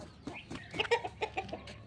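A rooster gives a quick run of soft, rhythmic clucks, calling newly hatched chicks over, close by but fairly quiet.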